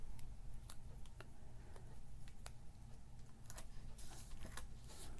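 Scissors snipping out a paper sticker for a scrapbook, a series of small crisp cuts over a steady low background hum.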